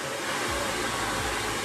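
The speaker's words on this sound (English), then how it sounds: "then you follow the blow dryer after the brush" A hair blow dryer runs steadily while drying hair after highlighting, a constant loud broadband whoosh with no pauses across the whole stretch.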